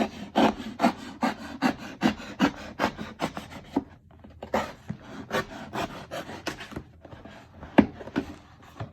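A blade slices through the cardboard and tape of a shipped package box, up close, in a quick series of rasping strokes that slow and thin out toward the end.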